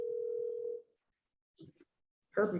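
A phone call begins with a steady dial tone lasting nearly a second, then a pause, a brief faint electronic blip, and a louder burst of sound as the line connects.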